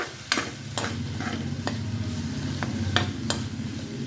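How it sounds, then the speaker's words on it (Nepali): Green chilies and grated coconut stirred in a pan, the spatula scraping and knocking every half second or so over a soft, steady sizzle, close up and without speech. "अनि सबैलाई एकछिन मजाले मिक्स गरिदिने।"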